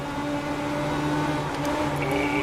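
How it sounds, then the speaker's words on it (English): A motorcycle-style engine on an iRacing cross car in a racing video game drones steadily with a constant harmonic buzz throughout, holding a fairly even pitch at moderate loudness with no talk. "There you go, motorcycle engine."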